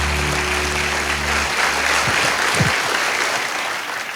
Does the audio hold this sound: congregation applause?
yes